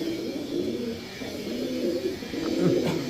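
Pigeons coo softly nearby, low throaty rolling calls repeating over a quiet background.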